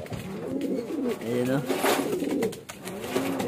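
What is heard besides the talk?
pet birds, pigeons cooing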